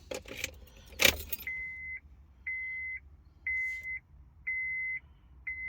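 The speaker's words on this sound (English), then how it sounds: "Switch the ignition off, and that is off." A Honda Accord Mk7 ignition switched on and off with keys: a loud key jangle and click, then a car's steady electronic beep chiming in five evenly spaced tones, close and alone in a quiet cabin.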